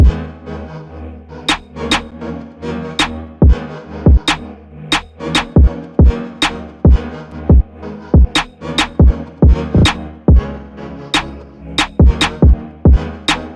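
Full UK drill type beat, with sharp percussive hits in a steady syncopated pattern over deep sliding bass and a dark melodic layer, loud and up front with no voices.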